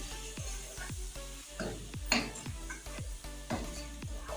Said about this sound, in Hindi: ये ऐड करके थोड़ा सा भूनेंगे।